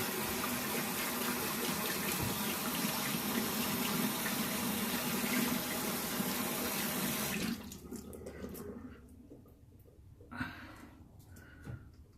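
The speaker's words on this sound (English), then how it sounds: "just wash it off, rinse it out." Tap water running into a bathroom sink to rinse away antibacterial hand soap, a loud steady gush that cuts off after about seven seconds, followed by faint drips and small handling sounds.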